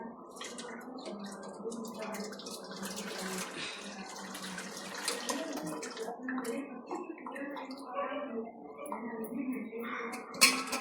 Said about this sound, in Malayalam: അതിനകത്തോട്ട് ശർക്കരപ്പാനി ഒഴിക്കാം